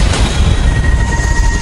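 A high-speed train runs on rails with a loud, dense roar of rolling noise and faint high squealing tones, close and continuous.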